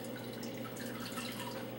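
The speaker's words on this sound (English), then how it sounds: "So at first a lot of juice comes out of the bag." Juice from blended fruit drips from a nut milk bag into a sink, a faint, steady trickle with soft scattered drips over a low hum.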